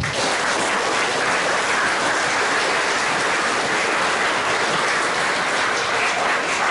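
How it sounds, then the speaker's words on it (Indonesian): A crowd claps steadily at a church feast-day gathering at a school, the dense, even applause continuing without a break and without voices. "Mari kita tepuk tangan."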